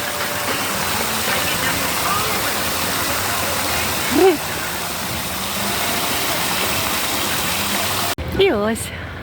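Water flows outdoors in a continuous broadband rush that covers the whole clip, with brief vocal sounds rising over it about halfway through and near the end.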